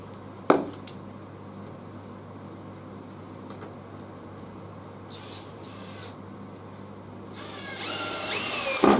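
A power drill drives screws into a wooden N gauge model railway baseboard, with a short whir near the start, a few mechanical clicks, and a louder rising drill burst toward the end, no talking.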